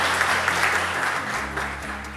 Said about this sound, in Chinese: 是不是我们来个掌声